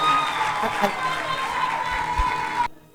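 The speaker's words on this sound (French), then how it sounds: "sous vos acclamations encore pour la deuxième dauphine" Applause and cheering from the audience at the Miss Rondes et Jolies 2018 pageant in Gabon, greeting the second runner-up; a steady, loud wash of clapping and crowd noise that stops abruptly near the end.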